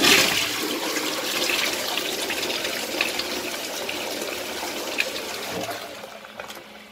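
A newly installed wall-hung toilet flushes with a loud gush that tapers into steady running and refilling water, heard up close with no talking.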